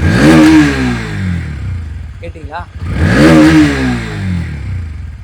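A 2025 Bajaj Pulsar NS 160 motorcycle revs hard twice up toward its top end, each sweep rising and falling with a rasping exhaust note, while a brief spoken question sits in the lull between.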